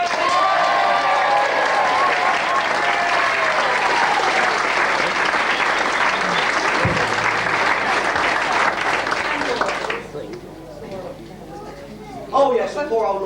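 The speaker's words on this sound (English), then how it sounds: "Let's give her a good cheer." A theatre audience at an amateur Snow White pantomime claps loudly and steadily for ten seconds, then stops abruptly, leaving a quieter hall with a voice and stray sounds afterward.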